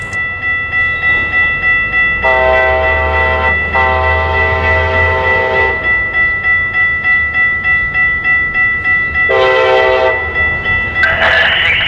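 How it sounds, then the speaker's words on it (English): Amtrak 768, led by cab car CDTX 2118, rolls through Oceanside, California, sounding its multi-tone horn in two loud blasts over a constant rumble of passing railcars, close and powerful. "Amtrak 768 with CDTX 2118 leading the charge made its way through Surfliner Way"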